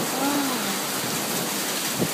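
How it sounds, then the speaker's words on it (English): A thunderstorm with cold rain and hail gives a dense, steady hiss of downpour with a faint low rumble, loud and continuous throughout the short stretch. "there's a really bad thunderstorm and there's hail and it's cold rain"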